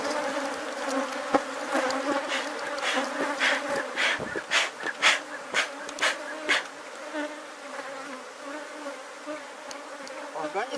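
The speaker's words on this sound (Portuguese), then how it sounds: "Organizar o enxame agora." Honeybee swarm at a small apiary, a dense steady buzz with individual bees passing close and loud in pulses, no talk over it.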